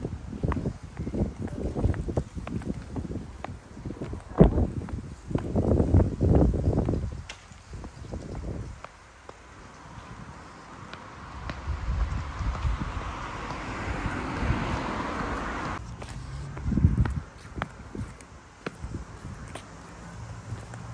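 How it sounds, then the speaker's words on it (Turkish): Strong wind gusts buffet the microphone outdoors, rumbling and surging in waves, with heavy low bursts early on and a sustained whooshing swell in the middle. "Çok rüzgar var bak."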